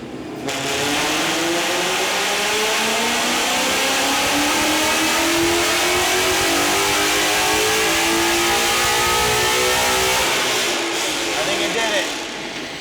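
A 2018 Ford Mustang GT engine revs hard on a dyno and holds a loud, sustained roar, its pitch climbing steadily before easing off near the end.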